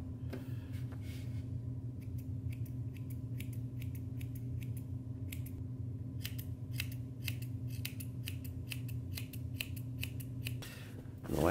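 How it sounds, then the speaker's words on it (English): Small scissors snip through sheepskin for mittens. The cuts come close up as rapid, quiet, crisp clicks in irregular clusters over a steady low background hum. "A small pair of scissors can be real helpful with this step."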